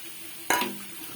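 A single quick scrape of a spoon stirring fried greens with fried onion and garlic in a pan, a brief close clatter against a faint, steady sizzle.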